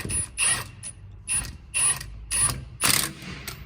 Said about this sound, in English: I'm gonna torque them anyway, definitely important to torque them